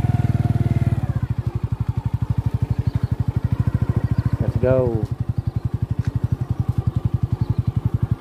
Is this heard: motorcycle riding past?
yes